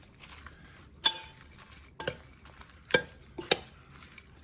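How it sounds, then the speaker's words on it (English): Vinaigrette of red wine vinegar being stirred into a corn, bean and bread salad, soft mixing with several sharp clinks of a utensil against the bowl, close and without talk. "Just put it in there, stir it up."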